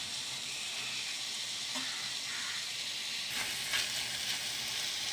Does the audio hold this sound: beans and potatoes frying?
yes